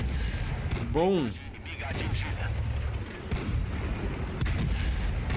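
Tank cannon shots in the video game World of Tanks, with heavy booming blasts and rolling echoes in a noisy battle mix, while someone speaks briefly between shots.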